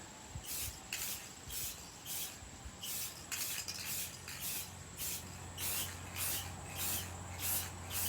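Short regular bursts of a spray bottle misting a costume piece, about a dozen hissy pumps in a steady rhythm with no talking.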